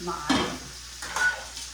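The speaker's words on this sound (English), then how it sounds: "sausages, and they are frying up beautifully" Hot Italian sausages frying in a pan, giving a soft, steady sizzle with brief louder bursts as they are stirred or turned, heard close up, with a single word spoken.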